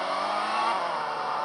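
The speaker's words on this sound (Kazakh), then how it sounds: "Выхлопы күшті дедім." A video game car engine, a small hatchback in a racing-style game, revving hard and continuously with a loud, steady exhaust roar.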